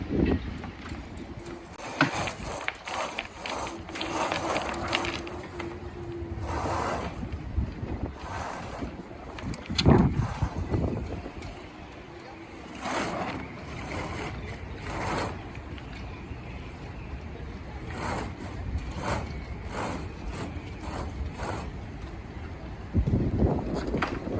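A sail aboard a bareboat charter sailboat is pulled back out and rolled onto its furling drum, with rustling and flapping canvas in steady wind noise and several sharper bursts throughout.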